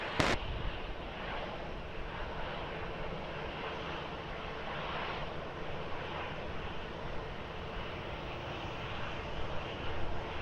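An airliner taking off from Lisbon Airport on runway 20, its engines giving a broad, continuous roar from a distance with a little wind noise across the microphone.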